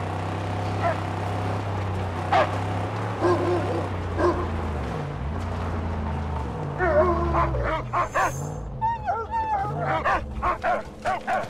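Dog in the Mad Max video game barking and yipping repeatedly, with whimpers, over a steady low engine-like game drone; a voice speaks briefly.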